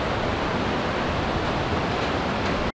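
Water rushes and churns steadily beneath a footbridge on a Himalayan mountain trek, a loud, continuous broadband roar with no voices, ending abruptly.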